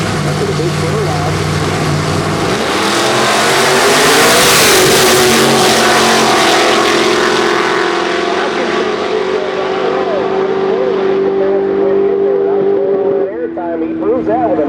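A nitrous outlaw street car roars hard down the drag strip, its engine climbing in pitch under full throttle before a brief shift. A commentator talks over the loud, sustained howl.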